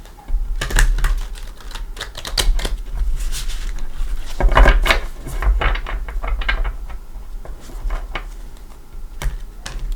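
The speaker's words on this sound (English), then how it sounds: "Let's give them a shuffle." Rapid riffling and snapping of tarot cards being shuffled, close up, in quick bursts with short pauses between them.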